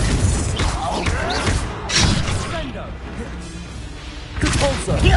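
Blasting Confringo spell impacts from the wizarding video game Hogwarts Legacy, heavy thuds and crashes landing in bursts amid busy combat noise, with a player's voice talking over the action.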